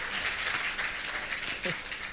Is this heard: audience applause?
yes